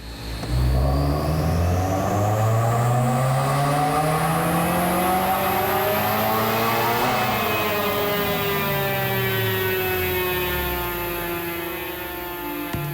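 A modified car engine makes a dynamometer pull, revving loud and steady as the pitch climbs and then winds back down over several seconds, with no talking.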